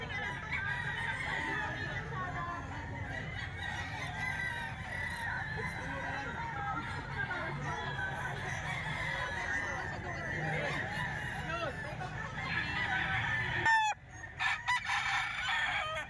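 Gilmore hatch stag rooster crowing repeatedly with steady clucking, loud and close, other fowl calling in the background throughout.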